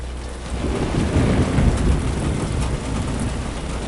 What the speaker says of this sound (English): Hear the rain pattering on the metal.